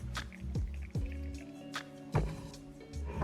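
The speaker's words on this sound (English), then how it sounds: "what you want to do is pour a glass of tea" Mint tea poured into a glass: a few short liquid splashes and drips over a steady low hum, close by, with no talk.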